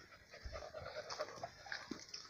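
A black dog on a tegu-trapping outing in dry brush country pants rapidly and lets out soft whimpers, faint and close to the microphone with rustling outdoors.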